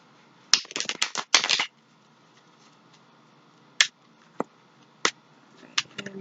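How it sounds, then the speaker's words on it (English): Tarot cards are riffled and shuffled in quick rapid bursts, then scattered single card snaps and taps follow in a quiet room. "I'm shuffling your cards,"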